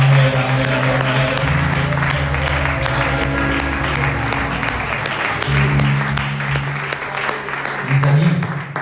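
A church congregation applauds in a sustained, dense wash of clapping that runs the whole time, while voices sing or call out over it.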